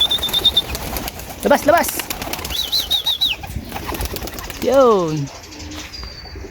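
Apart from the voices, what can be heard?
racing pigeons released from the loft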